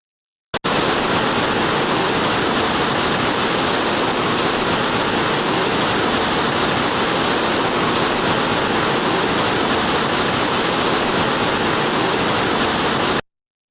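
Roaring torrent of Niagara Falls and the fast rapids of the Niagara Gorge below, a dense, steady broadband rush of pounding water that holds constant and loud from start to finish with no voices.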